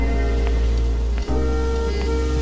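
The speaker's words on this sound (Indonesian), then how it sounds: "Namun di malam itu hujan turun dengan sangat deras" Heavy rain falling at night, a dense steady hiss of drops pattering on surfaces over a low constant hum, briefly dipping once before continuing unbroken.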